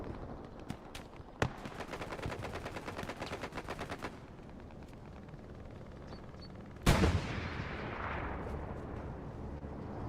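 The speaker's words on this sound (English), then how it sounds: "Looks like we do have our first bombing run of the match somewhere." Heavy gunfire and rolling battlefield blasts from a Hell Let Loose match, with rapid automatic bursts through the first few seconds, then a sudden loud bomb-run explosion that decays into a long rumbling tail.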